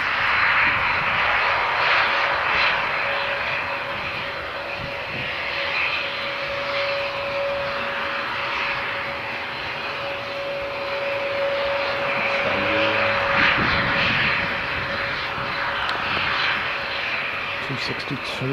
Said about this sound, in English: Looks like he's going to follow the Adelaide flight 262 down the taxiway there.